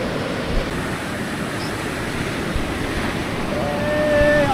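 Sea waves wash onto the beach at Pundaquit, Zambales in a continuous broad rush of surf, heard up close with gusty wind buffeting the microphone.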